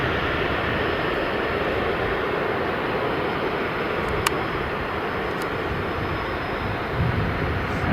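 A jet airliner at Stansted Airport gives a steady, far-off broadband roar that holds at an even level throughout, with a couple of faint brief clicks near the middle.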